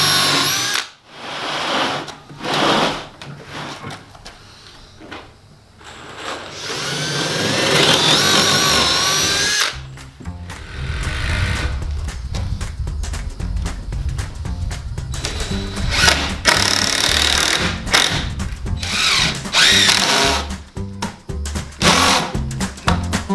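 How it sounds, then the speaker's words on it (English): A power drill with a 1/2-inch bit bores pilot holes in wood for a galvanized raised garden bed, several loud whirring runs of varying length separated by brief pauses and handling noise, close up with no talking. "pre-drill these with a 1/2-inch bit."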